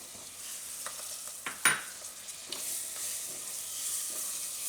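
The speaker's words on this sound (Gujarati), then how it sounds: "તેલમાં બધા મસાલા મિક્સ કરીને આપણે એમાં નાખીશું ટમેટાં" Spices and tomatoes hit hot oil for pumpkin khichdi, giving a steady close sizzle with a few sharp stirring clicks and scrapes and one louder burst near the middle.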